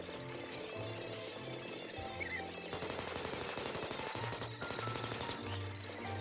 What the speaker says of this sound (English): So now I'm just wasting Uzi ammo.